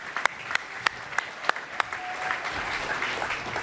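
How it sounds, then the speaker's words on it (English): An audience gives a short burst of applause for the Sumner High School 4A boys state golf champions at a sports awards celebration, starting with scattered distinct claps that quickly merge into steady clapping. "Let's give them a round of applause."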